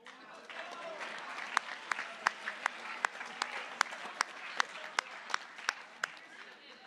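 Applause at a junior high academic awards ceremony honors a math award winner. It is a moderate round of clapping with several sharp, prominent claps at a steady pace, and voices are heard in the room alongside it.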